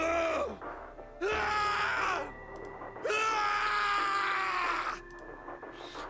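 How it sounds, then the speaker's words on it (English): Snake's scream of rage and despair in the game 999: Nine Hours, Nine Persons, Nine Doors, two long, loud, strained vocal cries with a shorter grunt before them, echoing in an incineration chamber. "His scream echoed through the incineration chamber, full of rage and despair"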